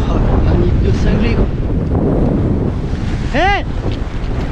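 A big ocean wave strikes a sailboat at sea during a rescue, a loud rushing surge of water with heavy wind buffeting the microphone and a brief rising tonal whine near the end.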